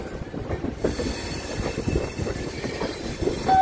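Train moving at a railway station platform, a loud close rumble with rolling wheel clatter and a faint squeal, continuous throughout the short stretch.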